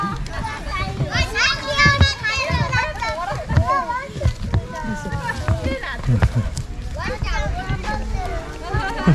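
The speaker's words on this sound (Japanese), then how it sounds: "幼稚園の子供追いかけてるブービー" Kindergarten children play and shriek while a dog chases them on a hike up Mount Takao, their high excited voices loud and continuous with overlapping chatter and footsteps nearby.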